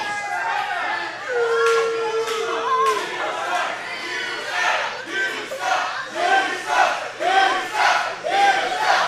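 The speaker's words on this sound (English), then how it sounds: "Now the crowd telling Adam Reyes what they think about him." A wrestling crowd at a UCW-Zero Maximum Carnage show shouts and jeers at wrestler Adam Reyes, many voices yelling in loud, overlapping bursts that rise and fall steadily throughout.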